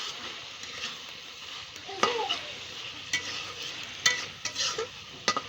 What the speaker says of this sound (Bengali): চুলার জালটা একটু বাড়িয়ে দিয়ে এখন মাংসটাকে আমি আরও ভালো করে কষিয়ে নেব